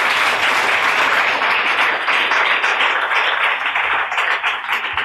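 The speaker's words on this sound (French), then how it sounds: "Ça mérite des acclamations." A crowd applauds at a French-language awards-style stage event celebrating champions, with dense, steady clapping that stays loud and continuous throughout, tapering only slightly near the end.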